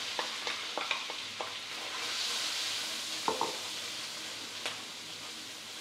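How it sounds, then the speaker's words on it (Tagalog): Garlic sautés in a pan, a steady bright sizzle with occasional sharp scrapes and clicks of stirring, close and alone with no talk. "gigisahin lang natin yung mga aromatics"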